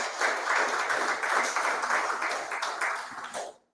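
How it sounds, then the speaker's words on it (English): A town hall audience applauds Aisha Maduro with sustained, dense clapping at steady volume that fades out near the end. "Give her a round of applause."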